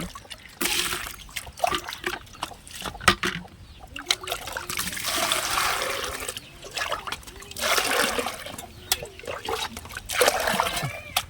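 Water is poured in uneven bursts, trickling and splashing on and off at close range.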